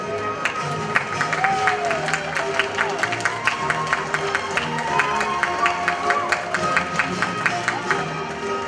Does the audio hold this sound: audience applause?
yes